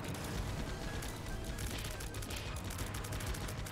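Rapid bursts of gunfire and explosions crackle continuously, a dense, quiet stream of combat sounds from The Binding of Isaac: Repentance.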